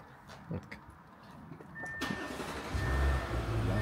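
A Bulgarian-registered Audi Q7 engine cranks and catches after a quiet interior pause, rising into a steady low idle rumble that grows louder toward the end, with no talk.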